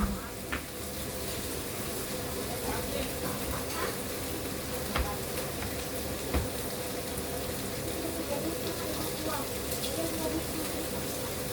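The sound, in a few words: prawns sizzling on the barbecue grill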